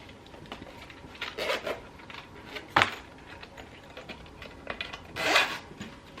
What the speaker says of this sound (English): This is tin, but it has a zipper.